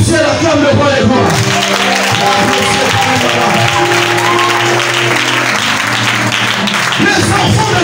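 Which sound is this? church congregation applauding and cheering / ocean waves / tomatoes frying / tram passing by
church congregation applauding and cheering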